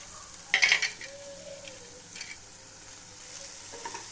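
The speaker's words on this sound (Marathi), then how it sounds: "आता मिरची आपली चांगली तेलामध्ये फ्राय झालेली आहे" Green chilies sizzle in hot oil with a light continuous hiss. A sharp clatter of a spoon or utensil against the pan comes early, then quieter stirring follows with coriander added, and no one talks.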